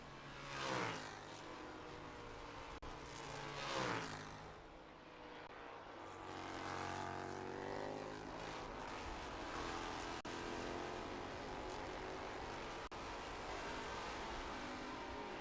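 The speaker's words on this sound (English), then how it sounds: "See Popow on the brakes and that car dancing around a little bit underneath him" F4 race cars at the Mid-Ohio track on a hot day, engines revving and downshifting under braking, then a steady, distant roar as cars pass and keep racing.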